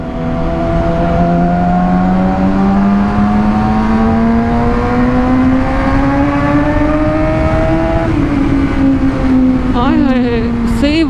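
A Yamaha R6 sport motorcycle roars loudly while riding, its engine note climbing steadily in a long pull before dropping and revving sharply again near the end, with wind rushing throughout.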